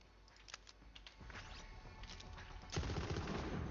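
Borderlands 3 gunfire from the Stubby Nasty Skeksil weapon: a sputter of early shots, then a dense, steady rattle of rapid fire with a louder burst near the end, close and continuous, with no talking.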